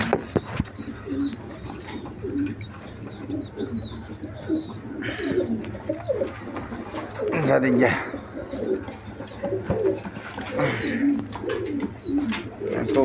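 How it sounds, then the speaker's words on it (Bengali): Pakistani pigeons, an adult pair with two chicks, coo repeatedly in a low, throaty rhythm throughout, with someone talking over them and occasional chirps nearby. "এগুলো পাকিস্তানি কবুতর দুইটা বাচ্চা সহ"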